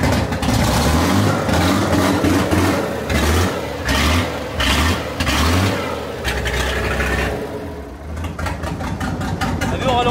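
A monster truck's engine revving repeatedly in loud, close, pulsing bursts with a rumbling exhaust, then easing toward a lower idle; people talk over it.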